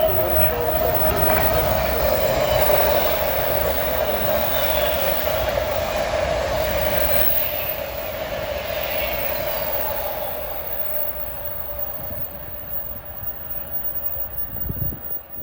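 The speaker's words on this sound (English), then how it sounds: "I see a train approaching from New York" A train on the Northeast Corridor at Linden, New Jersey, rolls past with a loud, sustained rumble and a steady whine, gradually easing off as it moves away.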